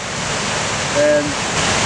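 Waterfall swollen after recent rainfall, a steady broad rushing roar that fills the scene, with a brief faint tonal sound near the middle and no talk.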